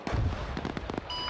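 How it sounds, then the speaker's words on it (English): Several gunshots crack in quick, uneven succession in an Arma 3 firefight near a town church, sharp and fairly close, with a brief electronic tone at the end. "Coming up to the church, hearing gunshots close."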